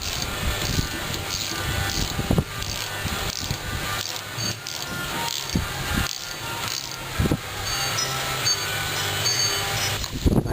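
Close mechanical clicks and scrapes of tools as bolts are tightened on the fuel tank sending unit of a 1976 Corvette, steady irregular ratchet-like taps over a continuous background hiss.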